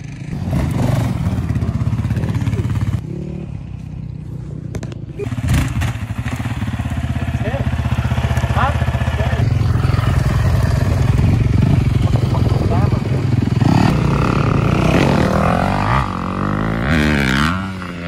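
Quad ATV engine revving and roaring steadily while being ridden outdoors, loud and continuous with surges in pitch, with occasional voices under the engine noise.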